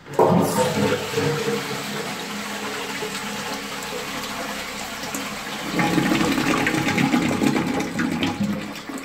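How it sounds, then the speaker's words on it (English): A toilet cistern in a pub flushes with a loud close rush of water, settles into a steady flow, then surges again as the fill valve refills the tank with a continuous hissing trickle. "I think it has one of those fill valves that John despises."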